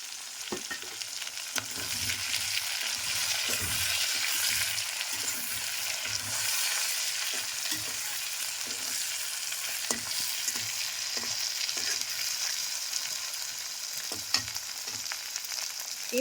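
Black cumin seeds fry in hot oil with green chillies for a kochu shak dish with hilsa fish head, a steady broadband sizzle running throughout alongside occasional soft clicks of stirring.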